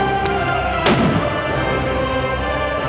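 .50 BMG rifle with a carbon fiber barrel and a muzzle brake fires once outdoors at a 600-yard range, a single loud, sharp blast that booms and decays quickly into the open air.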